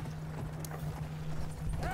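Hooves of a Battlefield 1 warhorse clip-clop in a steady rhythm over a low humming game backdrop, with a brief whinny-like cry near the end and quiet speech mixed in.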